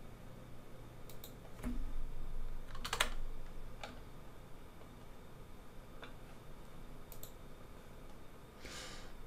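Computer keyboard keys pressed, including the shift and down-arrow keys, giving a few soft, scattered clicks and taps close by in a quiet room.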